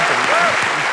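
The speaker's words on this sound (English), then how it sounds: "I've put an applause in the podcast, and it is drowning you out." Applause sound effect dropped into a podcast: dense, steady clapping from a crowd, loud and continuous throughout, with faint voices underneath.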